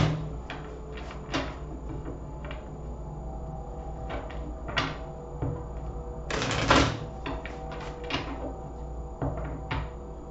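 Soft riffling and flicking of cards being shuffled, in short irregular bursts with small taps and thumps between, quiet and close.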